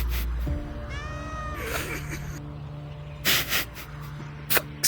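A cat lets out a strange, drawn-out warbling meow that rises and falls, followed by a few sharp noisy bursts over a steady background hum.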